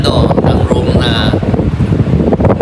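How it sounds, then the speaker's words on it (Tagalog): Strong wind at a high-elevation spot buffets the microphone in loud, uneven gusts that rumble and roar throughout. "kung naririnig nyo yung hangin, no?"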